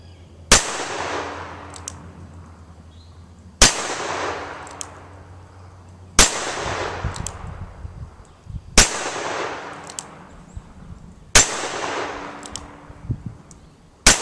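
Five loud, sharp .38 Special revolver shots from a Rock Island M200, fired singly at intervals of roughly two to three seconds, each followed by a short ringing decay, with no talking.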